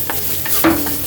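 Onions hit hot oil in a pan for a tilapia dish, giving a loud, close, steady sizzle with a sharp flare as they land and light stirring scrapes, no talking.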